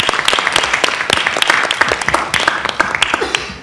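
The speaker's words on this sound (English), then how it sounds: "So I want to give a round of applause to the staff." Audience applause at a Medicare advisory panel meeting on hospital outpatient payment, thanking the meeting staff: dense, steady clapping from many hands throughout, fairly loud and close.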